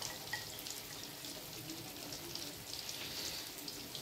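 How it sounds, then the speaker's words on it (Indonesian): Stuffed tofu frying in hot oil, a steady soft crackle and sizzle with scattered pops, heard alone without voices. "Nah, ini sudah kita masukkan nih tahunya nih, kita goreng."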